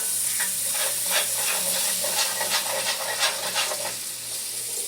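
Food sizzles and fries in a cast iron pan, a steady close hiss broken by repeated stirring scrapes and soft clicks of a utensil against the metal.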